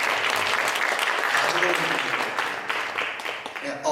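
Audience applause at a church panel discussion session during a Passover event, sustained dense clapping from a full room that continues steadily and fades slightly near the end.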